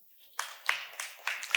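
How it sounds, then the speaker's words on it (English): A handful of scattered, faint claps from a small audience, about five separate hits spaced out over a moment in a quiet room. "Give a huge round of applause to him, please."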